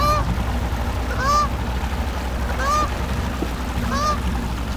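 A goose honks three times at regular intervals over a steady low rumble outdoors, moderately close and loud, with no voices.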